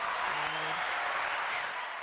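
A canned applause sound effect plays on a radio show, a continuous, even burst of crowd clapping lasting about two seconds with a brief voice tone underneath early on.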